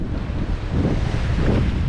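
Wind and ocean waves heard aboard a sailboat at sea off southern Brazil, a loud steady wind rumble with swelling washes of water and no talking.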